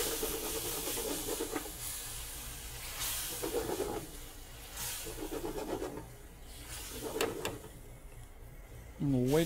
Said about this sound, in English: So at this point, I'm going to deglaze with a little bit of burgundy wine.